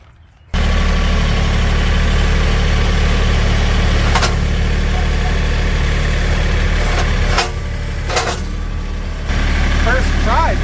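A tractor engine idles close by with a steady low rumble, briefly dipping and then returning, while a few sharp clanks and knocks sound over it.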